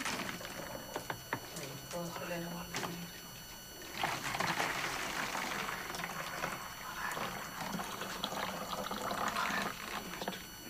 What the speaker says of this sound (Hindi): इस पानी को इसमें डालते हैं।